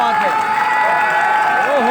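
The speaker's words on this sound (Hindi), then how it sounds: "तालियां बज रही हैं 56 रन की जबरदस्त इनिंग खेलने पर" Spectators at a night tape-ball cricket tournament applaud and cheer after a 56-run innings, the crowd noise a steady broadband wash running throughout under continuous loud talk.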